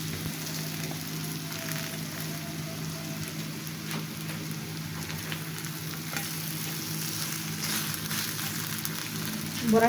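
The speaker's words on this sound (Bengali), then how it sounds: "অপর পিঠটাও আমি এভাবেই লাল লাল করে ভেজে নিচ্ছি" Vegetable fritter (bora) frying in hot oil over a medium flame, a steady close sizzle and crackle running throughout with no talking.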